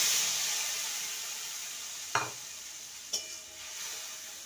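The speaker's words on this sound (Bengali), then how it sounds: "ভালো করে মশলাটাকে কষিয়ে নিতে হবে।" Spice paste for a vegetarian banana stem curry sautéing in a pan, a steady soft sizzle with two sharp clinks of a spoon against the pan midway, no talking.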